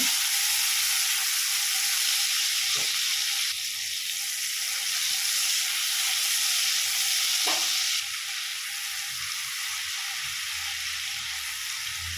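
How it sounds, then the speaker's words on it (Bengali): Tomato frying in a pan gives a loud, continuous sizzling hiss, broken by two sharp stirring knocks, with the hiss easing slightly toward the end. "টমেটোটাকে আমি 2 মিনিট নাড়াচাড়া করে নেব।"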